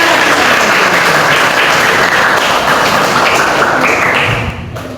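A classroom of children clapping their hands together after a clapping chant, loud, dense and continuous, then tapering off at the very end.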